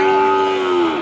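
A single long, loud moo from a cow or calf at the Kragan Rembang cattle market in Indonesia, held steady for about a second close to the recorder, with no one talking over it.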